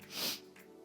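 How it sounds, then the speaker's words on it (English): Quick nasal sniffing inhales during a breathing exercise, a close, soft airy hiss swelling and fading, followed by a sharper short sniff at the end. "we're going to inhale through the nose with 4 sniffs."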